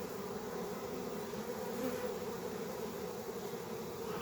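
Honeybees at a hive in spring give off a steady, dense buzzing hum that runs without break through the whole stretch, close and even in loudness.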